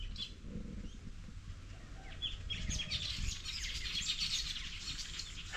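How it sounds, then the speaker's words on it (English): Birds chirping and calling outdoors on a bright morning, a dense scatter of tweets that swells and grows busier partway through, heard over a steady low background rumble. "That's the birds."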